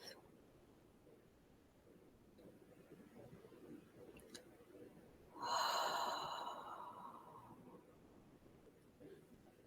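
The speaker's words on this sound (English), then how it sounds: "Breathing so loud that you can hear every in breath and every out breath." A single loud, close breath, sharp and snort-like, rises out of a quiet background midway through and trails off slowly, with faint breathy noise before and after.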